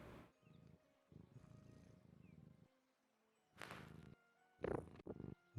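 A close, low rumbling purr pulsing in steady rhythmic waves, then a few brief louder rustling bursts near the end.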